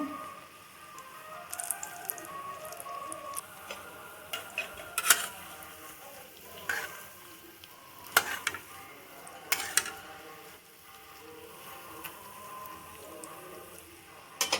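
Bean pakora fritters frying slowly in oil, a soft low sizzle with occasional clinks and scrapes of a utensil against the pan, fairly quiet and close.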